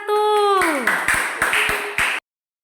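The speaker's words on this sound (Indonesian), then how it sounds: "Tepuk tangan untuk kelompok 1" A classroom claps for a student group, a handful of sharp rhythmic claps following a descending tonal sound, then abrupt silence.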